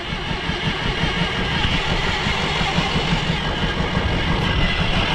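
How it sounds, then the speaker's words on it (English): A Massey 135 tractor engine cranks on a cold start and catches into a loud, rough, continuous rumble that runs steadily without pause; the carburetor is leaking fuel. "See if this will cold start"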